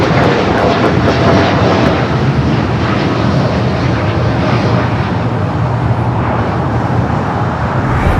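A Boeing 787-9 Dreamliner heavy jet lands on runway 25 left at Los Angeles airport, its engine roar a loud continuous broadband rush from start to end, with a faint radio voice at the start.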